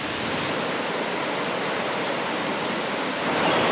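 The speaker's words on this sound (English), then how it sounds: "Now that we've checked out the largest falls" Steady, loud rush of a waterfall on the New River in West Virginia, a dense unbroken roar of falling water that swells slightly near the end, with no voices.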